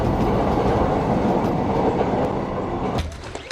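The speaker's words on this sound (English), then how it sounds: "A train rumble by outside." A video game train rumbles past outside with a heavy, continuous roar and rattling wheels, then quickly thins out as it moves away.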